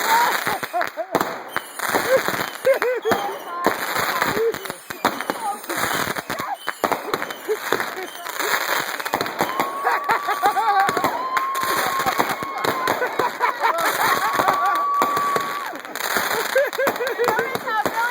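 Fireworks and firecrackers go off in a backyard at a birthday gathering, with dense crackling bursts and pops continuing throughout while people talk and call out nearby.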